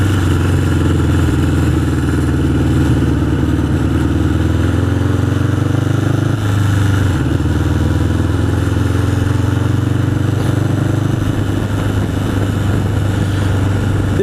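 A 1981 Honda CB750 Custom motorcycle engine running while riding on a Sunday outing: a loud, continuous mid-pitched engine drone with throttle changes, close and alone throughout.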